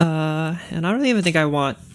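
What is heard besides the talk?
No distinct noise like a dog, phone or traffic.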